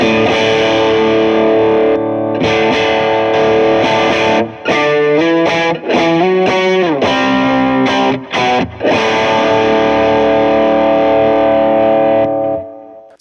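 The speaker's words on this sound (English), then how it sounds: "So you can hear that sort of nasal quality of the overdrive of the 808." Electric guitar driven through an 808 overdrive pedal at lower drive and higher output, a dense run of distorted chords and riffs with short choppy breaks, loud and close with nobody speaking.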